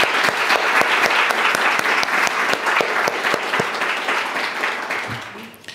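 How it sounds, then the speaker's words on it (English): Audience applause at a poetry reading event, a steady dense wash of clapping from a crowd that holds strong for several seconds, then tapers off toward the end. "can we give her and Jeffrey a huge round of applause for what they do to make this happen?"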